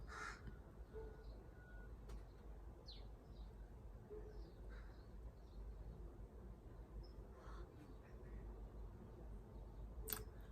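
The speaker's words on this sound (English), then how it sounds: "I feel like you heard that bird that time" A single bird calls a few times from a distance, thin and intermittent over a steady background hiss, with no talking.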